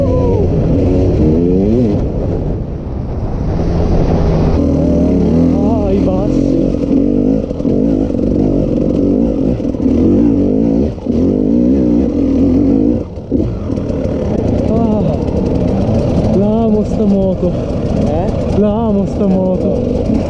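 A KTM EXC 300 motorcycle engine revs continuously while being ridden, loud and close throughout, its pitch rising and falling with throttle changes, with a rider's voice talking over it.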